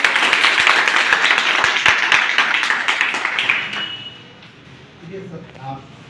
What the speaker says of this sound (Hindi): और सबसे जबरदस्त ताली एक मेरे गुरुदेव की